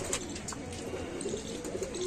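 Soft, repeated coos from Sialkoti pigeons drift through a steady low background murmur, with a few brief bird chirps higher up.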